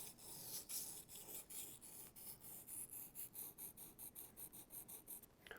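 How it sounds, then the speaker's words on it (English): A knife blade is drawn across a whetstone in a series of even rasping strokes that gradually get quicker and more regular, heard up close and quiet with no talking. "just a couple strokes on the whetstone"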